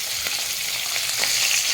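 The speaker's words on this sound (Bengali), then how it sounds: "প্রথমেই কিন্তু মাছের মাথাটাকে একটু মুচমুচে করে ভেজে নিতে হবে।" Fish head deep-frying in hot oil until crisp, a steady, close, hissing sizzle that holds without a break and swells slightly toward the end.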